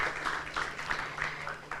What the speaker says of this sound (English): we give him big applause